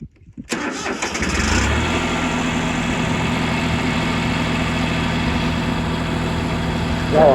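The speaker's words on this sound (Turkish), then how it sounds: "Şimdi traktörü yakalım yine." A tractor engine cranks and catches, then settles into a steady, loud, rumbling idle that continues to the end, in a Bulgarian village.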